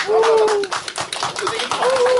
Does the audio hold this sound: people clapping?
yes